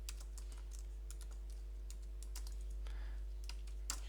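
Rapid, irregular keystrokes on a computer keyboard, close and fairly quiet, with clusters of clicks and brief pauses over a low steady hum.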